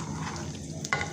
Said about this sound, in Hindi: तो मक्खन हमारा पकने लग गया है।